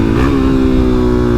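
Suzuki DRZ400SM single-cylinder motorcycle engine revving loudly up close, a brief rising rev that settles into a steady buzzing idle tone.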